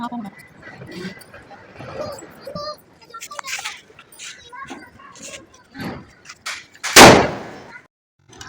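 Diwali firecrackers go off outdoors during a festive night, with one loud sharp bang near the end after scattered smaller pops, over people talking and a dog barking in the background.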